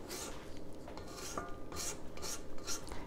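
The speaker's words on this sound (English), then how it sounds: "I'm going to scrape the sides, make sure it's mixing well down into there" Spatula scraping the sides of a mixing bowl of banana bread batter, steady rasping strokes in a repeating rhythm, close and fairly quiet with no talking.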